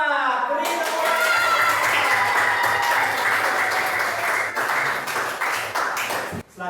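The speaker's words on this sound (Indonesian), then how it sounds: "Beri tepuk tangan." Students in a classroom break into applause for a winning group, a steady wash of many hands clapping throughout, with a teacher's voice faintly over it before it cuts off.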